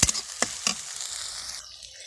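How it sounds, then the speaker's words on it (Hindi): Ginger garlic paste frying in a pan for a prawn curry, a close hissing sizzle with a few sharp stirring clacks, fading abruptly near the end. "अदा रसुण पेस्ट दे सारा भल भाव भाजीदेवी ताको"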